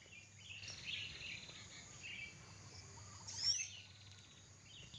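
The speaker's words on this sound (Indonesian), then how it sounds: "ada suara burung" Faint, distant birds chirp in brief high calls over a quiet outdoor hum, with one slightly louder tweet near the middle.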